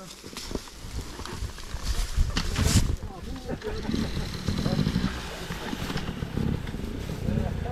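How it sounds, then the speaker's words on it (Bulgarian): Enduro motorcycles riding off-road, engines revving and droning unevenly at moderate distance through the whole stretch, mixed with rough outdoor noise and some voices. "тук долу има някакви мотори"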